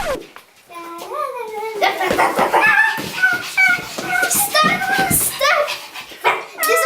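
A dog that has slipped its leash barks and yips repeatedly at close range outdoors, with a voice talking over and between the calls.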